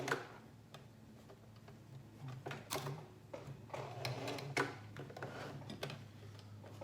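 A sewing machine stitches a tulle toddler dress in quiet, uneven bursts of ticking needle strokes over a low steady motor hum, the rhythm starting and stopping throughout.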